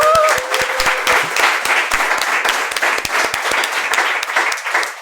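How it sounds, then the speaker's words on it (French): Close, loud applause from a small audience at the end of a podcast episode, individual claps clearly separated in a brisk, uneven rhythm, with a brief tone at the very start. "On les applaudit."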